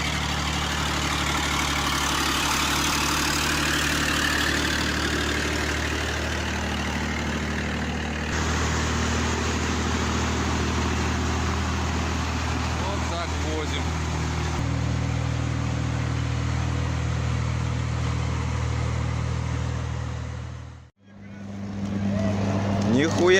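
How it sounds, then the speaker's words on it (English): A Ural logging truck engine, fitted with Kirovets K700 tractor wheels, idles with a deep steady drone that shifts slightly, then cuts out abruptly near the end before a brief restart of sound; voices talk over it. "When you mention logging in Russia, you immediately think of the Ural truck."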